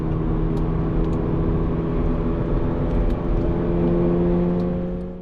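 A Subaru BRZ or Toyota GR86 lapping the Mosport GP race track, its engine a steady loud drone with sustained harmonic whine and road roar throughout, no talk.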